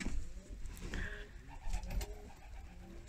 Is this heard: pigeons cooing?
yes